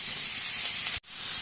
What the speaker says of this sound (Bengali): দিয়ে বাটিটা ধুয়ে আমি একটু অল্প করে জল দিয়ে দিলাম